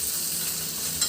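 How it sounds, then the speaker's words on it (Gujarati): Green chili tempering stirred in a hot pan, a steady close crackling sizzle with a brief louder scrape near the end. "હવે તેને હલાવી લઈશું એટલે બધું એકદમ સરસ ગરમ થઈ જાય અને સતળાઈ પણ જાય"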